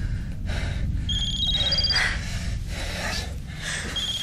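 A telephone rings in a drama scene, a short electronic ringtone of repeated high melodic beeps over heavy breathing and gasps.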